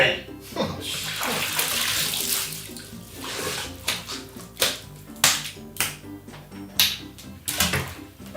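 Water strider mount gliding across water in World of Warcraft, a run of close, bright watery splashes and sloshes recurring in rhythmic strokes after an opening stretch of continuous splashing, with no talking.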